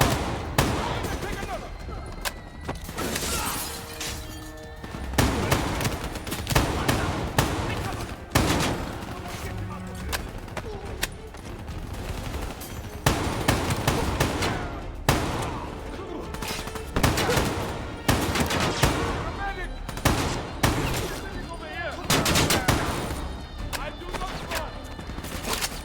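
Dense gunfire from Call of Duty: Black Ops III, a battle for the streets of Cairo with sustained bursts of automatic fire and shots crackling almost nonstop, loud and close, with shouted voices mixed in.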